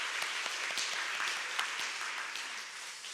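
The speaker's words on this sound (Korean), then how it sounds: "감사의 인사로 박수를 한번 하겠습니다" A church congregation claps in thanks during a Sunday service, a soft, somewhat distant patter of many hands that slowly fades over a few seconds.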